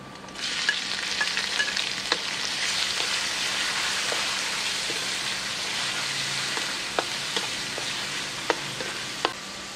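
Shrimp hit a hot pan for a stir-fry with Chinese chives and tofu, setting off a steady, loud sizzle with scattered sharp crackles and spatters, no voices.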